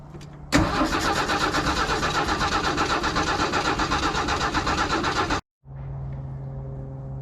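A 1967 Ford F250 crew cab truck engine cranks with a steady rhythmic churning for about five seconds, cuts off abruptly, then the engine catches and settles into a low idle, loud and close.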